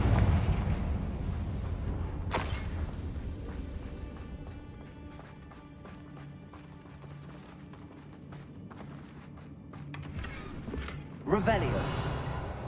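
A fiery blast from the Confringo explosion spell in a wizard video game bursts out near the start, then a low rumbling bed continues under game sounds before a second sharp burst near the end.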